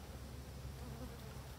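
Honeybees buzz at an opened hive in a continuous, even hum, faint and steady, with no clear voices over it.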